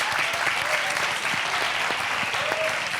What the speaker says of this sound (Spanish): Un aplauso para Ronda.